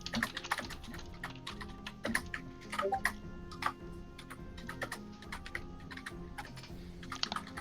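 Rapid, irregular typing on a computer keyboard, with dense clusters of sharp key clicks running throughout over a steady background hum, fairly close and moderately loud.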